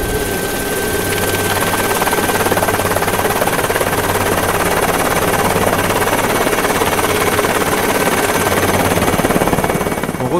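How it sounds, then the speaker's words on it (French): Helicopter flying over the mountains of the Chamonix area, a loud, steady rotor thrum and engine whine that stays close and constant the whole time, with no talk. "c'est encore Bébert qui se fait le petit tour de manège en hélico"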